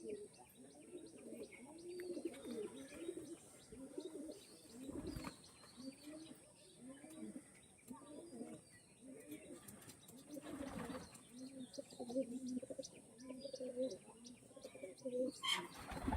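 Soft, repeated cooing from Pulsar breed pigeons, a steady run of throaty low coos close by, with a few brief flaps and rustles in between and a faint high background hiss.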